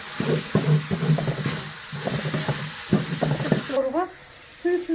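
Tomato paste sautéing in a pan over an outdoor wood fire, a soft, steady sizzle beneath a person talking throughout, with some stirring noises and a brief clatter near the end.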